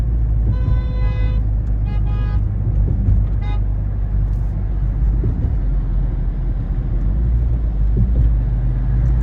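A train pulls into a station with a continuous heavy rumble throughout, while a couple of brief horn toots sound early on over the steady roar.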